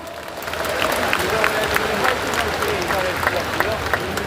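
A crowd applauds at a party convention, with sustained dense clapping filling the hall throughout, loud and steady, with a voice faintly audible beneath it.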